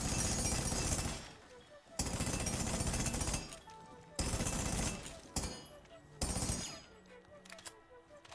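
Four loud sustained bursts of automatic gunfire in Rainbow Six Siege, shooting a hole around a Maestro camera, each lasting one to two seconds with brief pauses between.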